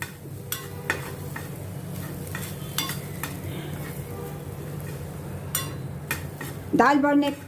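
Chili powder and amchur are worked into boiled dal with a spoon, giving soft scattered clinks and scrapes against the pot over a faint hum. A brief voice comes in at the very end.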